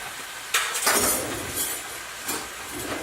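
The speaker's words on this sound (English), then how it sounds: "I'm going to get a spoon for that." A spoon is fetched in a kitchen, bringing a few sharp metallic clinks and rattles of cutlery. Two or three quick bursts stand over a quiet background.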